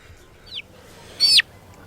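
A chicken that has just been caught gives a short squawk, then a louder, sharper cluck about a second later. The calls are close and brief, with quiet outdoor background around them.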